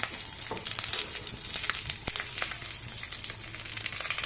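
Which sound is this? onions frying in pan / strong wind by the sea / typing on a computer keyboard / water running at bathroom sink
onions frying in pan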